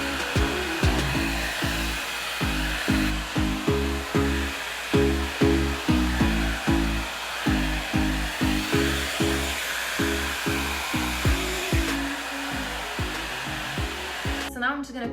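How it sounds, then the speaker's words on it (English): Hair dryer running on a cool, low setting, a steady close airflow hum broken by rapid rhythmic pulses as it is moved gently around the head, with no speech. "I'm just gonna take my hair dryer, I'm gonna put it on cool mode, and then I'm not gonna blast it, I'll just put it low"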